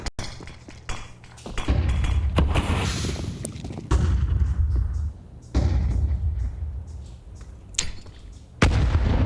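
Counter-Strike gunfire and grenade blasts in a pro match, several loud booming bursts and shots separated by brief lulls, close and punchy with no talk over them.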